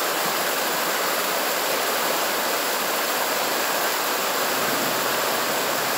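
Storm runoff rushes behind a house like a small river, a constant loud broadband roar of churning water without pause or voices.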